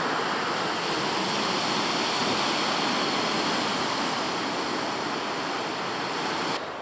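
Roaring sea surf and gale-force wind during a storm at Simeiz on the Crimean coast, a dense, steady wash of crashing waves and rushing air, loud and close throughout.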